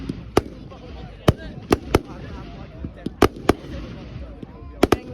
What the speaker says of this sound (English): these fireworks are just disturbing you